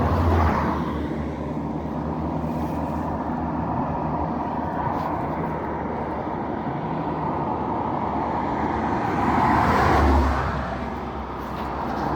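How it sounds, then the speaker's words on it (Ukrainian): A car drives along the road shoulder, a continuous low engine and tyre rumble that swells briefly near the end as it passes close, with faint background traffic. "Їде автомобіль по узбіччю, так."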